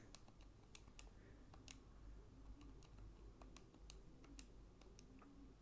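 Calculator keys being pressed, a run of crisp, irregular clicking taps, close and fairly quiet over a low background hum, with no talking.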